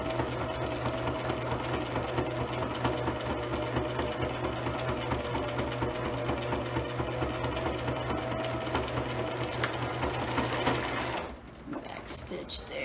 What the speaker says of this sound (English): Let me start to sew. And back stitch, stitch across.